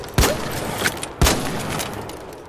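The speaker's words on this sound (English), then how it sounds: "It is a shotgun, pump action, and it absolutely destroys close quarters." Two loud, close blasts from the Il Toro pump-action shotgun in the video game ARC Raiders, about a second apart, each a sharp boom with a short ringing tail.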